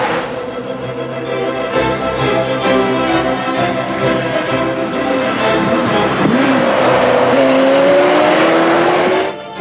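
A Ferrari sports car at speed on a race track, its engine note rising and sweeping in pitch as it accelerates and passes, loud and continuous with a hint of tire noise.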